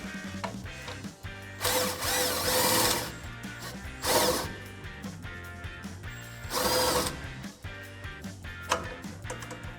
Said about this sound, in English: So then we can run out this bolt with our 21mm gun.